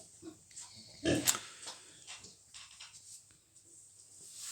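A sow in a pen on a pig farm gives soft, intermittent grunts at close range, one louder snort standing out among quieter snuffles, over a faint background hum.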